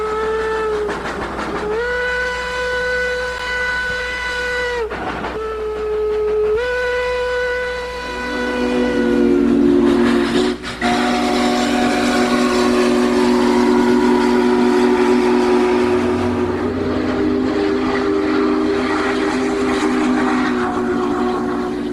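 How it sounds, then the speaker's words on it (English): A train's steam whistle blows in several long, loud, steady blasts with brief gaps, followed by the rumble and clatter of a passing train with rail cars rolling close by. "Engines can sometimes be identified by their whistles"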